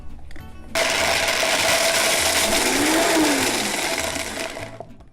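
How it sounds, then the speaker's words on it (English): A Vitamix blender starts abruptly, pulsing almonds, and whirs loudly for about four seconds, pitch dipping and rising slightly as the nuts break up, then winds down. "we're just going to kind of pulse that up in the Vitamix"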